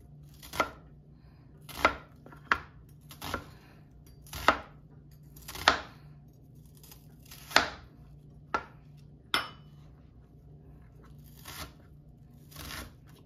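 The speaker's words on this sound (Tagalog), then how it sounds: "Hiwain po natin siya ng maliliit na hiwa." Onion being chopped into small pieces with a knife for pasta sauce, giving about a dozen crisp, separate cuts on a board at an uneven pace, close and clear with no talk.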